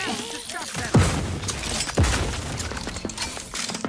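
Two heavy booming grenade blasts in The Outer Worlds 2 crack out about a second apart, loud and close, followed by a busy clatter of combat noise.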